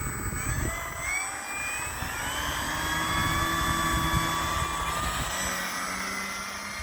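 A small propeller plane on its maiden flight drones steadily at a distance, holding a constant whining tone that swells slightly and then eases off.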